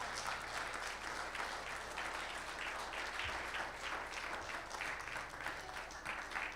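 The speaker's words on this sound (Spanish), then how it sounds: "Denle un aplauso al Señor, amados hermanos." A church congregation applauds steadily, a dense wash of many hands clapping at once that holds even and sustained throughout.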